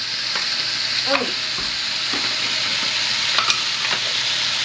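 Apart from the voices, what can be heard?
garlic and sofrito sizzling in a pot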